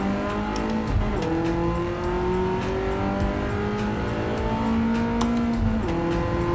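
A race car in Gran Turismo 7 oversteers, its engine droning loudly and steadily with pitch shifts as revs change, over a faint tire squeal, with no voices.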